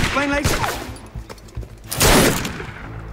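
Assassin's Creed Unity gameplay with a burst of gunfire in two loud, close clusters, the second heavier, mixed with game voices and ambience.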